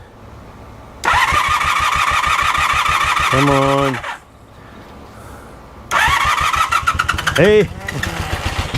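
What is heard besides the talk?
vintage motorcycle engine being started with the button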